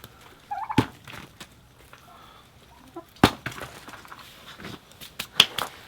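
Turkeys gobble in short bursts while pecking at pieces of pumpkin, with sharp snapping knocks from eating between calls, fairly faint and scattered.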